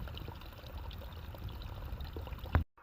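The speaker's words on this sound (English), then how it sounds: "The spring just comes right there out of that rock and creates a little stream." A small spring-fed stream trickles out of rock in a mossy forest, a soft continuous pouring and burbling of water heard close and quietly before a sudden bump cuts it off.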